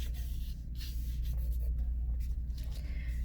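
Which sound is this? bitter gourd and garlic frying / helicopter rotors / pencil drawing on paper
pencil drawing on paper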